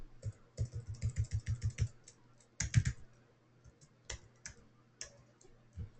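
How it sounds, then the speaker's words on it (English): A name is typed on a computer keyboard: a quick run of close, even key clicks, then a few heavier strikes and scattered single taps with pauses. "So we'll type in Russell."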